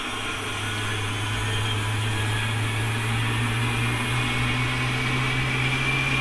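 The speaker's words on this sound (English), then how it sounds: "Here's the startup of the 777, the roar of the GE90 engines." The GE90 engines of a Boeing 777 start up in a flight simulator game, a steady, even roar with a low droning hum that holds throughout.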